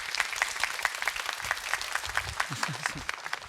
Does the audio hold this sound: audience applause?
yes